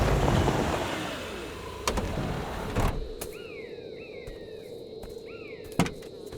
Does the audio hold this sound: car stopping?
yes